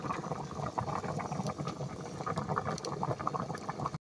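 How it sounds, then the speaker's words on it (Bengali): Potato and country chicken curry boiling hard in a pot, a dense steady bubbling and gurgling that runs close and even with no voices. "এদিকে তরকারির বলক উঠে গেছে।"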